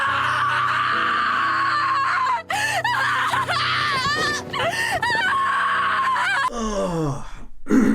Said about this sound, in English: That howl and scream from Gobta at the loss of his friend.